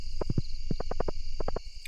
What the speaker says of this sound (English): Found my horse.